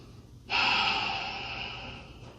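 A single long exhale during a yoga forward fold, close to the microphone, starting abruptly and fading slowly over about two seconds, breathy and alone with no talk.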